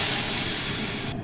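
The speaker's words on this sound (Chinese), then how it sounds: "先给牛肉焯个水哈，开火。 浇水" Water pours into a pot to blanch beef, making a loud, steady rushing hiss close by that cuts off abruptly at the end.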